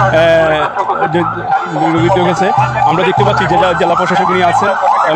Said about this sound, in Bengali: আপনারা শুনতে পাচ্ছেন ফায়ার সার্ভিসের একটি গাড়ি